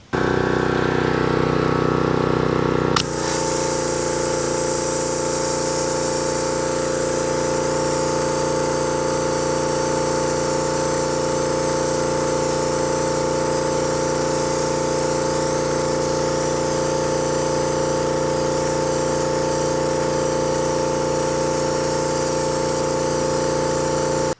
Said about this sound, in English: Okay, really fine blasting media. We're just gonna stick that down in the bag.